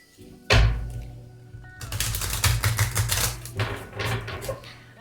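Rapid papery riffling and soft slaps of tarot cards being shuffled, a dense clattering burst over a low steady hum, close and moderately loud.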